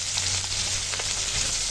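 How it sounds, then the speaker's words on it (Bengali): Onions sizzle loudly in oil left over from frying fish, a steady close hiss with a few soft stirring clicks and no voices. "মাছ ভেজে তুলে নিয়েছি, ওই তেলেই এখন পেঁয়াজ দিয়ে দিলাম"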